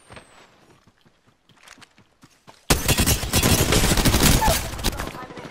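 After quiet footsteps and a few soft taps, a sudden loud stretch of sustained rapid gunshots erupts in an Apex Legends battle, dense and close for several seconds.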